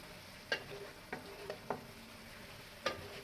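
Chicken koftas, about half a kilo of chicken, go into a pot for frying, giving a few separate sizzling clatters and stirring knocks over a low steady frying hiss, close and fairly quiet.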